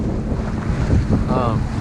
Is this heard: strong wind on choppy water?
yes